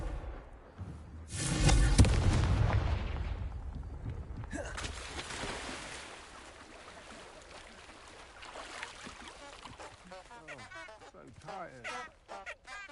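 A Confringo spell explosion in Hogwarts Legacy bursts out as a loud, roaring blast lasting a couple of seconds, then fades as game character voices talk.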